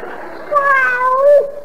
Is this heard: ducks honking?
no